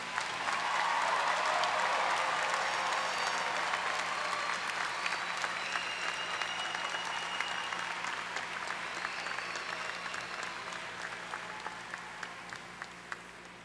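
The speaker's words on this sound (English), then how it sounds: "What about one more round of applause for every single graduate?" Sustained applause from a large commencement audience honoring doctoral graduates, a dense even wash of clapping that holds steady before gradually tapering off, with no voices over it.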